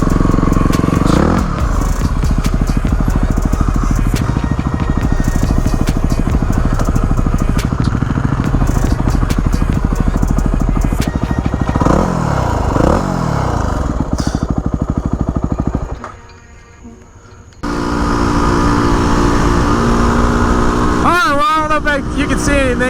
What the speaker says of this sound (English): Go ahead and turn this old bike around.